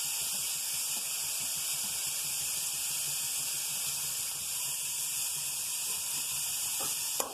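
Shredded cabbage sizzles in a hot pan for chowmein-style Maggi, giving a steady, soft, hissing fry throughout with no voices over it.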